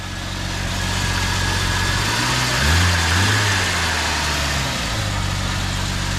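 A Jeep XJ engine idles with a steady low rumble and vibration, briefly swelling in the middle before settling back to an even hum.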